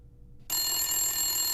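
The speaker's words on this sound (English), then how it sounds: "That's a phone ringer, not a bell." A telephone ringer starts abruptly after a short silence and rings continuously and loudly, a steady electronic trill with bright high tones held to the end.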